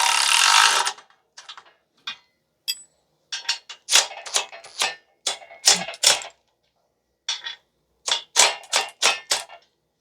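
Wrench tightening bolts on a 12-ton hydraulic shop press during assembly, a burst of rapid metallic ratcheting clicks at the start, then spaced sharp clicks and clacks in irregular clusters, close and alone.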